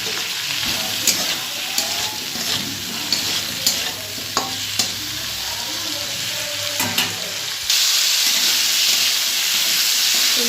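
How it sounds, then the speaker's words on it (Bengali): Spices tempered with nigella seeds fry in a pan with turmeric and salt alongside flat beans, a steady close sizzle broken by regular stirring scrapes that grows louder and hissier toward the end. "একটুখানি ভালো করে ভেজে নেব"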